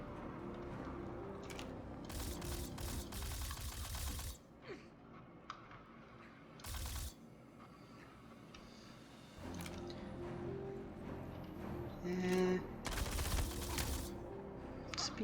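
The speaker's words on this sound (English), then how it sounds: "Using a lot of ammo here." Video game gunfire in Star Citizen, with bursts of rapid shots and fusillades broken by quieter gaps, some sharp single blasts amid a low game soundscape.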